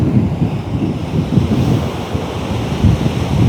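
Rough sea surf rolls onto Copacabana beach in a loud, continuous low roar with surging swells, buffeted by wind noise on the microphone and no voices.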